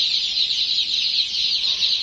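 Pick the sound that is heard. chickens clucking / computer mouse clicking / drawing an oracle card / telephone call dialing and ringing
chickens clucking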